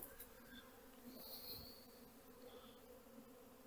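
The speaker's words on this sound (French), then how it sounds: "puisque les abeilles reviennent des 2 côtés" Honeybees buzzing around the entrances of beehive nucleus colonies being united ahead of wintering, a faint continuous drone with individual bees passing close by now and then.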